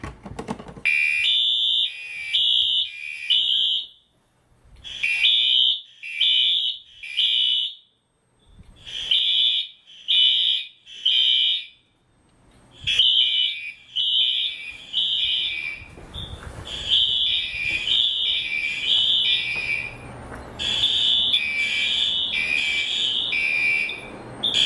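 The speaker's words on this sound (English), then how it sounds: "Because I know everyone could get annoyed around here by these alarms." A fire alarm sounds in repeated bursts of shrill electronic beeping, loud and close, the pattern stopping and restarting several times with short silent gaps between groups.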